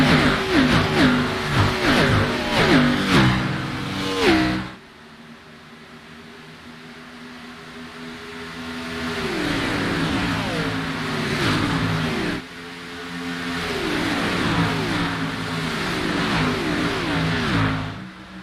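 Gen 6 stock cars roar off the green-flag start at Talladega in a sim racing game, engines revving hard in repeated rising surges with a loud, close pack sound.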